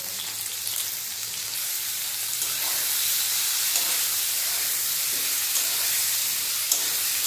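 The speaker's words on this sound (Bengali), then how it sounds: "ভালোভাবে ভেজে নেব।" Slices of eggplant and ridge gourd frying in hot oil with salt and turmeric, giving a steady, close, bright sizzling hiss that holds throughout with no voices.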